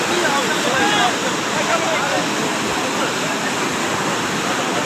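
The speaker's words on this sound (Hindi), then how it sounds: "हिफाजती बन था वो अब टूट गया और पानी जो है वो गाँव की तरफ बढ़ता दिखाई दे रहा है" Sutlej River floodwater rushing through a broken protective embankment toward a village, a loud, dense, unbroken roar of water with no pauses.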